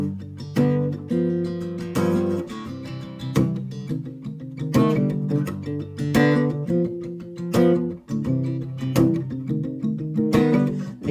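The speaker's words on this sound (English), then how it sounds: "is literally a voice memo from his iPhone that he sent me," A song demo recorded as a voice memo on an iPhone plays back, with rhythmic strummed guitar chords, thumping beat and steady loud full-band texture throughout.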